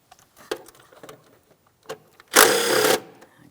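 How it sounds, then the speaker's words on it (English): An 8mm throttle body mounting bolt being loosened on a 2007-2014 Ford Edge 3.5L with a power tool: a few faint ticks and clicks, then one short, loud burst of ratcheting whirr lasting about half a second. "Let's go ahead and remove that mounting bolt."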